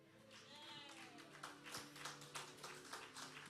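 A church congregation claps at an all-night service, faint at first and then settling into rhythmic, evenly spaced claps.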